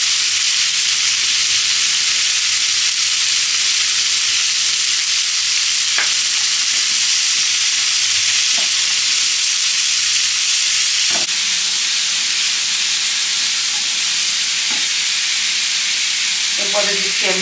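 Boiled chickpeas frying in a pan for khasta kachori filling, giving a loud, continuous close sizzle with occasional spoon clicks and scrapes against the pan, no talk over it.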